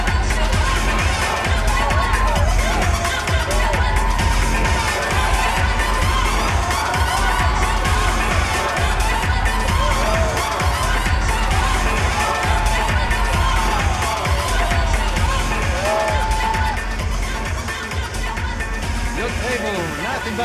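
In the video game Max Payne 3, a crowd keeps up a dense, steady murmur of voices and cheering for the whole stretch, loud and close, with speech mixed in.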